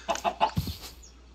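A chicken in the video game RLCraft gives three quick rising clucks and then a lower throaty squawk, clear and close, with nothing else underneath.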